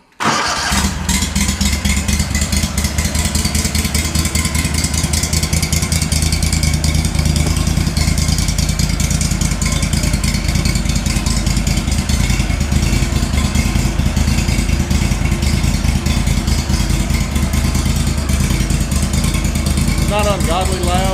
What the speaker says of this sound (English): Not ungodly loud. You can actually talk over it if you're going down the lake, but I don't like the sound of it.